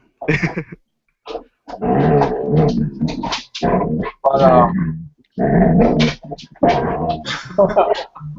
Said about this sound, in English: That's his dog.